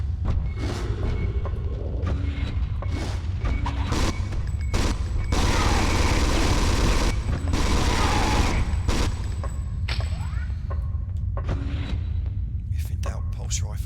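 Pulse rifle fire from the PS1 game Alien Resurrection, set in a mess hall complex: loud, close bursts of rapid shots, including one sustained volley mid-clip, separated by short gaps.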